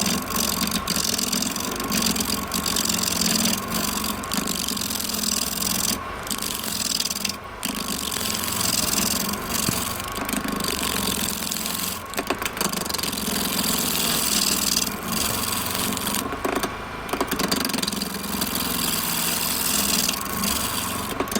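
A wood lathe spins at roughly 1,000 RPM while a tool turns a wooden Christmas tree ornament, giving a loud, steady broadband whir and scraping that carries without pause or talk.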